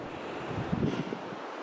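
Wind gusting steadily across the open mountain cirque at Gavarnie in the Hautes-Pyrénées, a broad, rushing whoosh buffeting the microphone, swelling briefly in the middle and easing off, with no voices.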